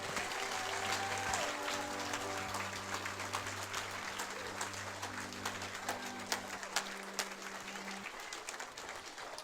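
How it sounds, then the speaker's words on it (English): A comedy show audience applauds the comedians in a steady, dense wash of clapping that runs throughout, with a low sustained musical tone underneath until near the end. "Let's give these guys a round of applause here."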